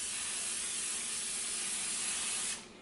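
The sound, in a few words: spraying coconut oil onto a bread pan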